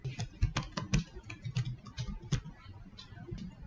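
Password being typed on a computer keyboard, a quiet close run of irregular key taps and clicks with no speech.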